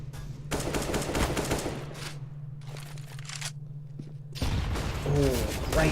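Rapid bursts of rifle fire in the shooter game CS:GO during a Chiefs vs Skyfire esports match, repeated volleys under steady commentary and game ambience.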